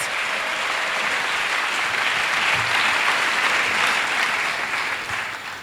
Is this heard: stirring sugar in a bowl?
no